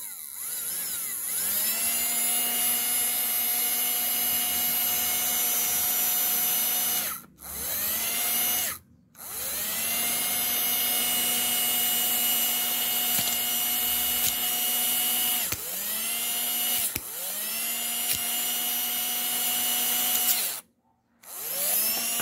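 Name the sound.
550 DC motor running during stall current test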